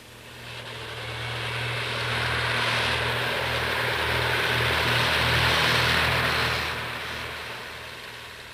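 A tractor cutting hay in a grass field in late June, a steady engine drone with tonal hum that swells louder through the middle and eases off toward the end, with no voices.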